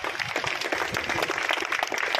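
Dense, steady applause from a large audience at a memorial event marking the sacrifice day of a martyred Shaurya Chakra recipient, sustained evenly throughout with no pauses.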